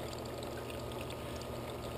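Water pours into a gold-prospecting sluice during cleanup as a steady close rushing flow, even and unbroken.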